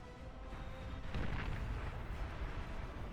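A commander unit blown apart by a Leech bomb in the strategy game Beyond All Reason, heard as a sustained low rumbling blast that swells after a second and rolls on under a dense wash of distant battle noise.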